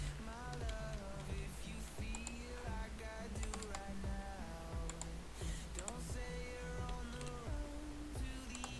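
Fingers type on a computer keyboard, producing quick irregular bursts of close clicking keystrokes with brief pauses, under a steady faint background hum and no talk.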